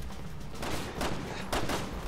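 Gunfire in Resident Evil 6, aimed at a gas tank: a few sharp broadband shot bursts about half a second apart, over a steady background of game noise.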